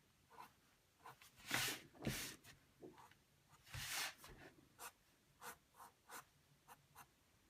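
A pencil sketching a bicycle rim on paper, soft scratchy strokes in short bursts with pauses between, close and quiet.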